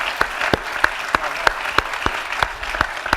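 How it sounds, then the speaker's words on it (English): At a mayors' panel event an audience claps in a steady, rhythmic pattern, several sharp, evenly spaced claps standing out above a softer bed of applause, close and moderately loud. "we can clap"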